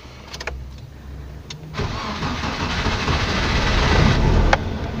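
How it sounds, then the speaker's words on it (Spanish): A Nissan Tsuru car engine cranks and catches after a water pump replacement, a brief starter whir followed by the engine settling into a steady, gradually louder idle, close by with no talk. "Vamos ahora a echar a andar el carro."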